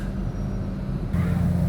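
A train at Blackwood station on a hill-climbing line toward Belair gives off a steady, close, low rumble that grows slightly louder and rougher partway through. No one speaks.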